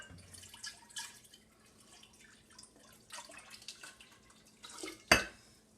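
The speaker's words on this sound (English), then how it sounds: "I strain it, like I'll pour a little bit out" Strained water kefir is poured from one jar into another, a soft trickling and splashing of liquid with scattered drips, ending in a sharp glass clink near the end, close and fairly quiet.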